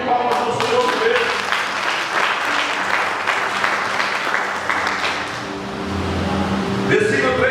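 Church congregation applauding during a service, steady clapping from many people with voices mixed in, fading slightly in the middle before swelling again.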